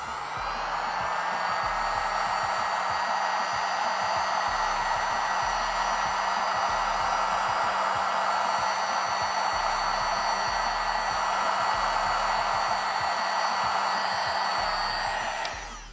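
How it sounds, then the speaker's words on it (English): A heat gun set on low heat blows a steady, loud rush of air with a faint hum underneath, unbroken for about sixteen seconds before trailing off at the end. "And the heat gun came from Amazon."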